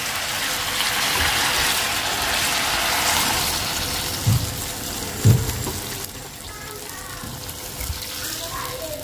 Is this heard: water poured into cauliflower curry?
yes